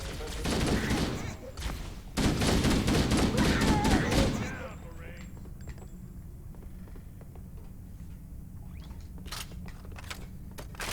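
Rapid gunfire and pistol shots in Halo: Combat Evolved Anniversary, dense loud bursts of shooting in the first seconds, then quieter scattered shots with game ambience, while voices talk over the action.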